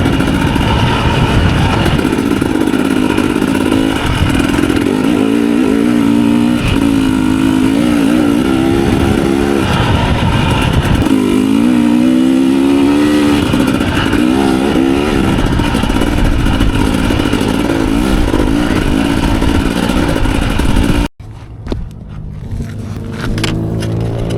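A 2024 Husqvarna TE250 TBI dirt bike with an FMF Turbine Core 2.1 exhaust being ridden, its loud, close two-stroke engine revving and wavering continuously for about twenty seconds before cutting off abruptly.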